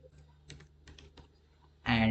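A computer keyboard clicks in a few light, scattered keystrokes while text is entered for a Python pandas data task, close and soft, before a louder burst of sound at the end.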